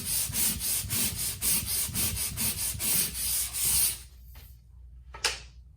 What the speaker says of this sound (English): we sanded the ceiling